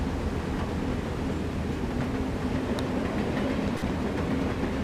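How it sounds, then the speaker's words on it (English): A train rolls past outdoors near a pitch-and-putt golf course in Austin, Texas, giving a steady, continuous rumble with faint clatter that holds at an even level throughout, with no talking. "Ah, the train is there."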